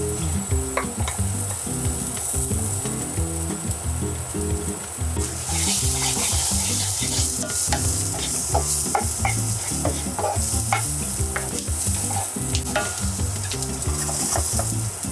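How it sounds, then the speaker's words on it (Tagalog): Ginger and onion sauté in oil toward golden brown, a loud close sizzle that intensifies partway through, over a layer of rhythmic background music, with scattered spatters and stirring scrapes. "igasan nyo lang hanggang mag golden brown."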